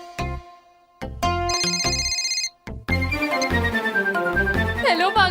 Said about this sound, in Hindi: अब बागा तू बावरी को फोन कर